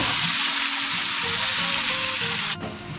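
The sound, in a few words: vegetables frying in a pan after removing egg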